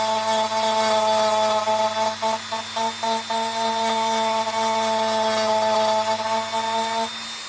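Material being gently rubbed down on a Nerf Aliens Pulse Rifle: a steady, close motor whine with a few brief scratchy pulses as the tool touches the surface, then it stops near the end.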